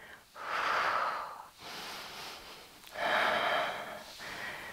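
Slow, deliberate breaths during a Pilates mat ab and leg exercise, long audible exhales and inhales alternating in broad swells, close and fairly soft with no talk.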